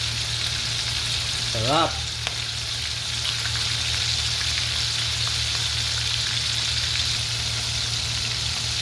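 Chicken pieces frying in hot oil, a steady, continuous sizzle and crackle that holds evenly throughout at close range, with a brief spoken word near the start.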